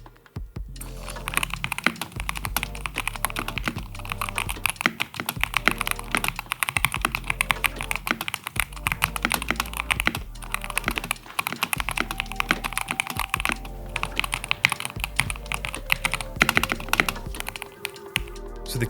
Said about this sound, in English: let me give you a quick sound sample of the keyboard.